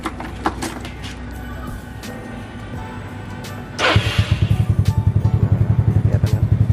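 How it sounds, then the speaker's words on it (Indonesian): A Yamaha Nouvo MX motorcycle engine is started and left idling to warm up, first a low rumble and clatter, then a steady close putter of rapid even pulses. "Santai masih panasin dulu motornya."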